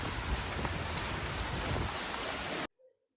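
Heavy rain pours down in a dense, steady hiss that cuts off abruptly near the end.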